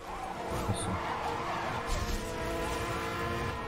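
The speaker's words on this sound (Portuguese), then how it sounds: "Você utilizar sempre o drift mesmo pra poder fazer as curvas" Tyre skid and engine noise from a car drifting through corners in the video game Need for Speed Hot Pursuit, a continuous loud screech with steady engine roar throughout, no talking.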